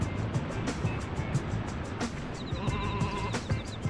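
A sheep in the video game Looney Tunes: Sheep Raider bleats once near the end, a short call over busy game sound effects and low background noise.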